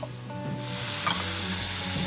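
Vegetables with soy sauce frying in a pan, giving a close, steady sizzle with some soft stirring, and no voices.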